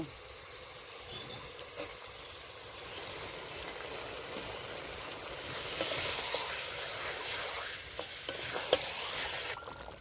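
Chicken and jackfruit being stirred in ghee in a pan, with close scraping stirs over a steady sizzle that grows louder and busier partway through.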